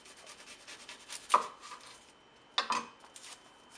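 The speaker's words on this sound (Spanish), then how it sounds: "Cebolla. Sacamos las puntas." A knife chops through an onion on a cutting board, two sharp distinct strikes with a light scrape between them, close and fairly quiet, with no talking.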